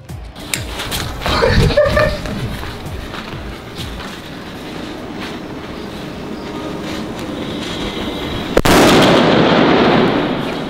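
Foil-wrapped sutli Diwali firecracker bursting outdoors, with a sharp loud blast near the end followed by crackling noise, amid ongoing outdoor rumble and faint background voices.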